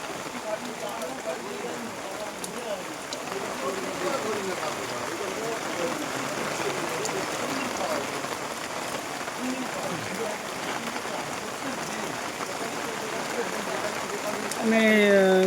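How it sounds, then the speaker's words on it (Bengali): Heavy monsoon rain in West Bengal pours down in a dense, continuous hiss that stays constant throughout while cattle are brought through the downpour. "প্রচুর হারে বৃষ্টি হচ্ছে"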